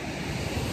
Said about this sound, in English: So guys, we're at the beach.